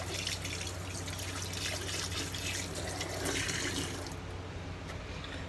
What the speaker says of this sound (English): Rinse it off my hands.